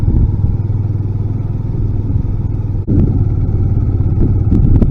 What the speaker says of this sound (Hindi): इसलिए बाइक को सावधानी पूर्वक ही चलाना है